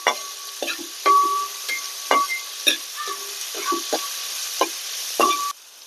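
Prawns frying with salt in a pan are stirred with a utensil, giving a steady sizzle punctuated by about ten sharp scraping and clinking strokes in an irregular rhythm, close and clear, with no voices, before the sound cuts off.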